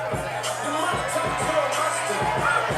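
Live crowd noise at an MMA fight between Victor Vorgar and Cody Halleman, a steady roar of voices with rhythmic low thumps and scattered shouts running through the whole stretch.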